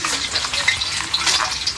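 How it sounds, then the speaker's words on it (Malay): Cempedak fruit deep-frying in hot oil gives a dense, steady crackling sizzle, close and loud throughout. "Cempedak goreng."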